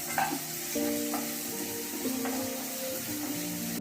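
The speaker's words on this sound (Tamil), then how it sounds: "கருவேப்பிலை எண்ணெயில பொரியும் போது வெங்காயத்தை பொடி பொடியா வெட்டி வச்ச வெங்காயத்தை நம்ம இதுக்குள்ள சேர்த்தோம்" Finely chopped onions frying in hot oil with curry leaves for a spicy cauliflower peas gravy, a steady close sizzle with occasional stirring scrapes throughout.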